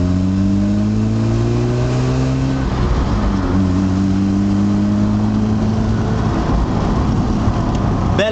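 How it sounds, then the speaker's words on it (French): Mazda RX7 rotary engine pulling hard in first gear on the road, loud and close, its rising harmonic whine climbing steadily, dropping briefly at a shift point, then climbing again without any talk. "Belle accélération, le fun."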